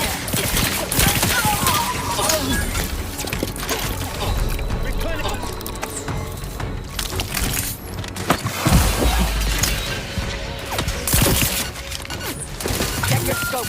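Rapid gunfire from the video game The Outer Worlds 2 crackles in dense, loud bursts layered with clattering impacts and game effects, mixed with voices throughout.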